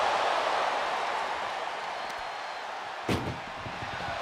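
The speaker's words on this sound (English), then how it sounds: "Desperately trying to close the first of two doors" Ambulance doors slam shut in a WWE 2K24 wrestling match, a single sharp bang standing out midway above a steady roar of arena crowd noise.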